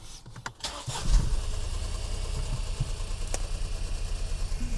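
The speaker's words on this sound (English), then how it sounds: "let's turn the car on" A Volvo car engine cranks briefly, then catches and settles into a steady, close idle with a pulsing low rumble.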